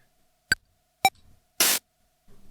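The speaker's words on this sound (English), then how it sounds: "those are just original sounds sampled from the VL-1" Casio VL-1 drum sounds sampled into an OP-1 drum kit play as a short sequence: two sharp pitched clicky blips, a quick burst of bright white-noise hiss, then a soft low thump, all dry and close.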